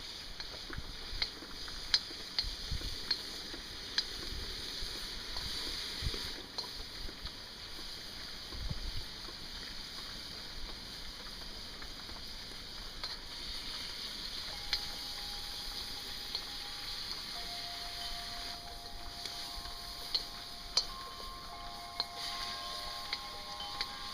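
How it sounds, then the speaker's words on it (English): Food sizzles on a stationary rocket stove outdoors on a homestead, a steady soft crackle heard alongside wind and wind chimes, whose clear tones ring out over the later part. "hear this thing sizzling over the wind chimes and the wind."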